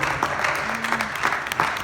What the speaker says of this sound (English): clap your hands if you love the Lord